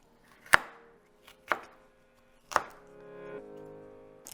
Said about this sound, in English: I'm cutting the core of the fennel off now after I grilled it.